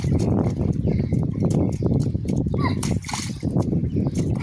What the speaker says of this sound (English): Splish splash.